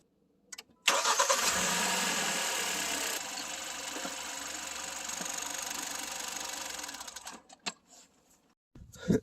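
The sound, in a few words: Kia/Hyundai car engine starting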